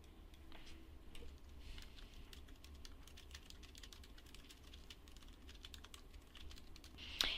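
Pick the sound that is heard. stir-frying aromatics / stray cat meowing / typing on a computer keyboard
typing on a computer keyboard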